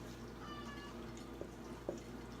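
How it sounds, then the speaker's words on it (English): A cat gives a short, soft meow over a low steady hum, followed by a couple of faint clicks. "Get a cat meowing, says he loves canned chicken."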